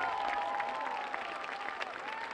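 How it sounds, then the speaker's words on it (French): A live television audience for The Voice applauds a singing group, a dense wash of clapping heard from some distance, sustained for a couple of seconds with no voices. "prenez vos applaudissements, c'est pour vous"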